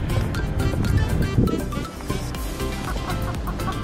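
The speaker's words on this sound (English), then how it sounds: "Hey! Chicken! Chicken!" Chickens cluck and call loudly and close by at an urban farm in Singapore, a dense busy flock noise with a steady low rumble underneath.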